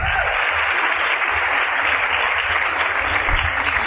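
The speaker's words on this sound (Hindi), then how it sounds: "इसलिए खुद के लिए जोरदार तालियां।" A seated audience claps loudly and steadily for about four seconds at a motivational talk, a dense, even wash of applause with no voices on top.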